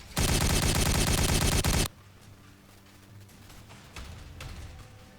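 Gunfire in the video game Warhammer 40K Regicide, a loud dense burst of rapid automatic shots lasting under two seconds, then quieter game sounds.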